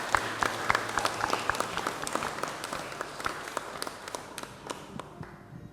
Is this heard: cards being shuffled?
no